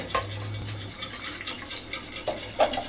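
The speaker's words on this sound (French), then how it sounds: "il faut brasser énergiquement, mais mettre l'eau petit à petit jusqu'à ce qu'on ait une pâte assez épaisse" A utensil stirs sesame shrimp fritter batter in a bowl as water is added, giving soft, irregular scraping and sloshing sounds, quiet and close, with no talking over them.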